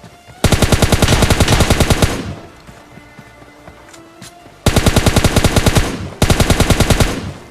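Automatic gunfire in PUBG Mobile Lite rings out in three loud rapid bursts, each a dense rattle of shots lasting a second or more, separated by a quieter stretch of faint game ambience.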